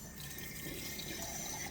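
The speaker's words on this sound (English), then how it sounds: "I'm adding just a little bit of water to the rice" Water pours steadily into a cooking pot of rice, a faint continuous splashing trickle with no talking.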